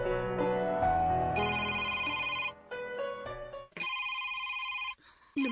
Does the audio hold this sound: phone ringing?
yes